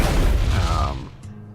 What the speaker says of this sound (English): Love that explosion.